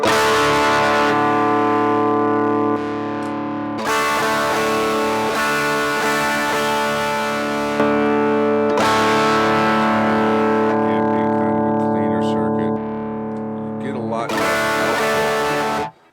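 A Mosky Sol918 guitar pedal's distortion circuit gives a heavily distorted electric guitar sustained chords, loud and buzzing, with brief breaks between strums.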